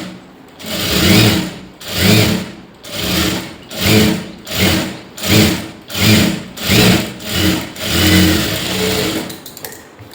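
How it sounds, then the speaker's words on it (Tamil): A sewing machine runs stitches along a blouse lining in short, regular bursts, about a dozen close, loud whirring runs separated by brief pauses, with no talking. "இதுக்கு மேலேயே ஒரு தையல் கொடுத்துட்டு வாங்க."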